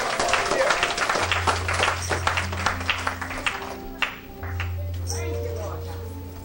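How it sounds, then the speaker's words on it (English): A church congregation claps hands during a service, an irregular patter of claps that fades after a few seconds, with a voice speaking over it and a sustained organ-like tone beneath. "Clap your hands for the word of God today."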